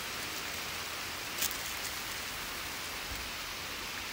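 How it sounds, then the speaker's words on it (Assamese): Soft, steady rain hisses evenly throughout, faint and continuous with no talking. "বৰষুণ দিছে এতিয়া"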